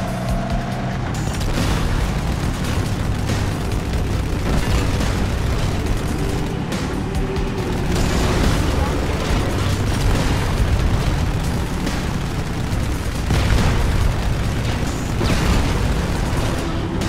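Tank cannon blasts and explosions in the Halo 2 video game, a dense, loud barrage of booming bursts and rumbling vehicle noise with heavy low-end thuds recurring throughout, with no pauses.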